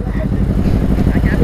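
A motorcycle engine revs steadily and loudly during a rev battle on a Kodaikanal trip, its rough low drone running throughout beneath people talking nearby.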